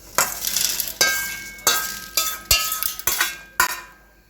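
Dal roasting in a pan for curry leaf podi, stirred with a spoon in rhythmic bursts of scraping and soft sizzle, with light clinks of metal against the pan.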